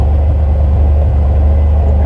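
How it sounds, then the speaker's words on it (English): An old Yamaha vehicle coasts downhill under engine braking on a mountain ridge road, giving a steady, loud, continuous low rumble that stays even throughout with no voices. "So that's really good engine braking from the old Yamaha."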